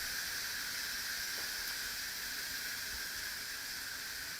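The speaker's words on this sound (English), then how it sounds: "And again, just letting the steam off." Steady, loud hiss of steam venting from a pressure cooker after cooking lentils, continuous and even throughout with no talking.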